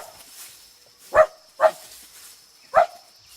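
Milou, the small white terrier from the Tintin cartoon, lets out three short, sharp barks against a quiet background, two close together and a third after a pause.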